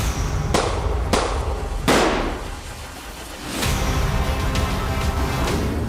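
Sharp, loud gunshots ring out in several separate bursts, each with a quick echoing decay, from Ukrainian snipers firing at Russian soldiers on a war front, with a harsh, noisy background running between the shots.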